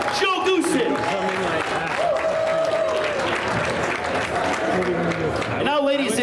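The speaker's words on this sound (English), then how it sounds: "give a round of applause to the Hall of Famer" Audience at a boxing event's grand arrival breaks into sustained clapping and cheering that fills the whole span, with an announcer's amplified voice running over it.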